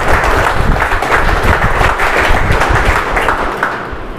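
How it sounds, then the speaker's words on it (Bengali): An audience at a health seminar claps in a dense, sustained round of applause, loud and even throughout, fading slightly at the end. "আর একটু সুন্দর করতালি প্লিজ"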